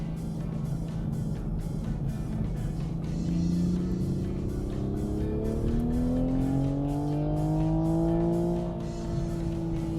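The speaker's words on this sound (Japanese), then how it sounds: "直録エンジンの気持ちのいい吹き上がりと、それに伴って聞こえてくる乾いたサウンドが非常に刺激的です" A Toyota GR Supra's straight-six engine accelerates hard onto a highway, its rising harmonic note climbing steadily in pitch over a loud, continuous road and tire roar.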